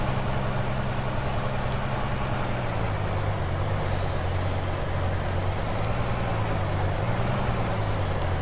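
Steady rain pours in the farming video game Farming Simulator 19, a constant dense hiss that fills the scene without a break, with a faint low vehicle rumble underneath.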